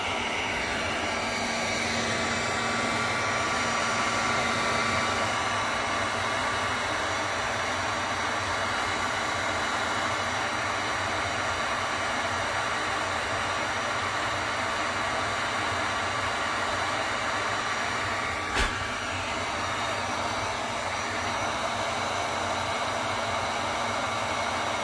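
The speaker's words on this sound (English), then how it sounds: "That was my heat gun. I held it on high and I was burning the paint." A heat gun running on high while burning paint off a small carved wooden tree house, giving a steady, close, continuous blowing roar that barely changes throughout, apart from one tiny click near the end.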